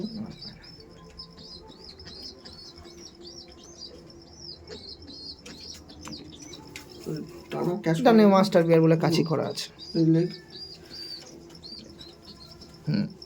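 Kalanka pigeons coo softly in a loft, low murmuring calls scattered through the clip, while someone talks nearby and louder voices rise briefly near the middle.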